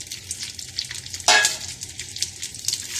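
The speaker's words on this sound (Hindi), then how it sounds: "प्याज होंगे फ्राई" Onions frying in preheated oil make a steady crackling sizzle up close, with one louder burst partway through as they are stirred.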